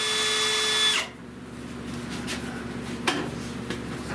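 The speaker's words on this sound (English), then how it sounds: "I'm gonna drill a hole." An electric drill whines steadily for about a second drilling a hole in a car fender, then cuts off, followed by quieter handling clicks and knocks.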